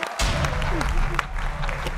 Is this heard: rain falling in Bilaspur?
no